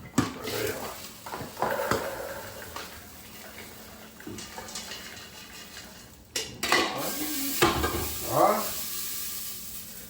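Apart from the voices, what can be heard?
popcorn being stirred and popped in a pot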